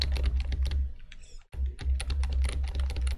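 Computer keyboard typing with shift and control-C key presses while editing code, rapid close clicking keystrokes in quick bursts, a brief pause in the middle, with no talk.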